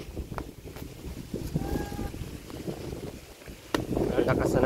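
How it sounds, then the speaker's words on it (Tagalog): Strong wind buffets the microphone on a boat trip at sea, a rough, continuous roar with bursts of gusting noise, while people talk now and then. "Malakas na po ang hangin guys."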